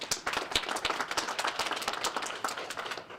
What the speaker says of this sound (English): So I want to give them another round of applause